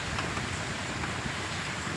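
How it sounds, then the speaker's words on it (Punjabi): Heavy rain pours down in a dense, unbroken hiss, loud and close, with a touch of wind. "ਆ ਦੇਖੋ ਬਈ ਕਿੰਨਾ ਮੀਂਹ ਪੈ ਰਿਹਾ"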